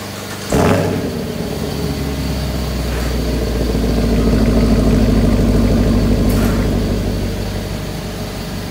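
An air compressor runs loudly in a garage where a car exhaust is being worked on, kicking on with a sharp start and then holding a steady, droning mechanical hum throughout.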